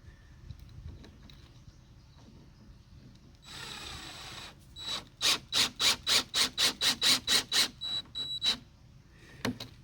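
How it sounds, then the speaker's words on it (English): A power drill pre-drills a hole in a deck board for a screw, first a brief grinding whir, then a rapid series of about a dozen loud, evenly pulsed bursts, close and without talk. "Pre-drill that just so the head will sit flush."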